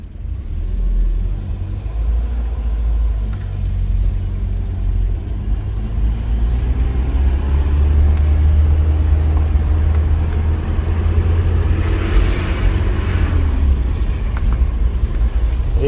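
A 1984 Nissan 720 pickup truck with a manual transmission driving around a block, its engine giving a steady low rumble with road noise that swells slightly midway, heard from inside the cab with no talking.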